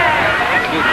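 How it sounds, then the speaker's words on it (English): Photographers shout from a roof over a dense crowd gathered around the 1960 president-elect Kennedy outside an armory. Loud, overlapping voices and crowd babble fill the short moment. "Photographers yelling from the roof to get a picture."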